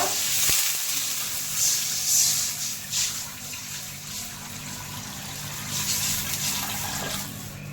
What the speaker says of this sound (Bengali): তো এখন আমি জল অ্যাড করব, জলটা একটু বেশি পরিমাণে অ্যাড করব।